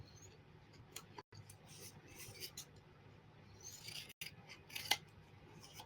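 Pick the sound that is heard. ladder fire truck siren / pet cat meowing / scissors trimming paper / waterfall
scissors trimming paper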